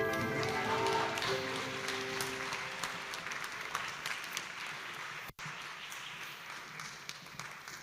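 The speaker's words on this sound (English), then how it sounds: "Applause for Greta." An audience claps for Greta on stage at a culture community event, with a dense burst of applause at first that gradually thins out and fades after a short break.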